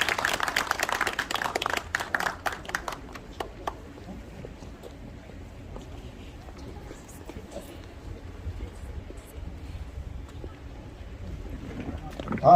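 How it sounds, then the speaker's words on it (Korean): Applause fills the opening seconds at a poetry recital at a Korean art museum's first-anniversary ceremony, a crowd clapping that fades after a few seconds into a quiet hall with faint sounds. "김나경 시인님과 김고은 작가님께 다시 한번 큰 박수 부탁드리겠습니다"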